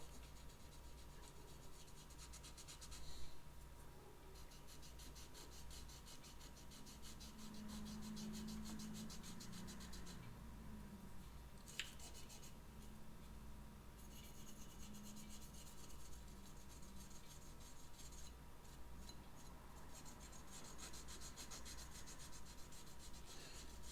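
Cotton swab working polish onto metal machine hardware, a soft steady rubbing and rasping that runs quietly through the whole stretch with a faint background hum.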